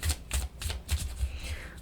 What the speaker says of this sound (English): See if I can shuffle these cards